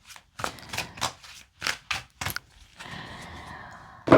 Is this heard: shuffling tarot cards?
yes